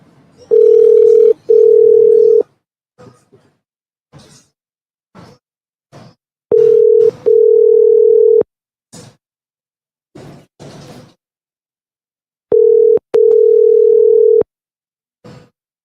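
An outgoing phone call rings through a handset, with steady electronic ring tones repeating in paired bursts, loud and close, separated by long silent gaps and scattered small clicks and handling noises.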